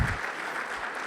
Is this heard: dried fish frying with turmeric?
no